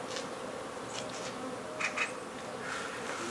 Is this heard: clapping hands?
no